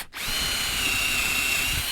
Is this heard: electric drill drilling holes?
yes